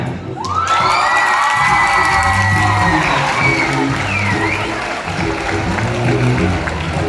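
Loud audience cheering, whooping and applause fill a festival opening performance by a combined college team at a university, a dense sustained crowd roar with high shouts throughout.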